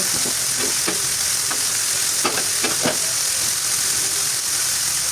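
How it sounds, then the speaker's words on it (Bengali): Chicken pieces, including gizzard, liver, feet and wings, fry in hot oil with a loud, steady, close-up sizzle. Several scraping stirs of a spatula cut through it, with no talk. "মুরগিগুলো তেলের মধ্যে ভেজে নিচ্ছি"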